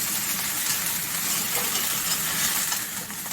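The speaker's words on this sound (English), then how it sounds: "We're just gonna saute it on high heat." Cauliflower sautéing over high heat in a pan for a masala dish, giving a steady, close hiss of frying that holds evenly throughout with no talk.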